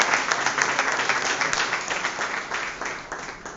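Audience applause at a World Theatre Day event, a steady wash of many hands clapping with small swells, moderately close and continuing without talk.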